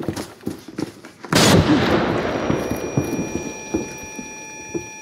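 A grenade blast bursts loudly in Arena Breakout during a TV Station raid, preceded by scattered gunshots and followed by a long decaying rumble with faint footsteps and distant shots.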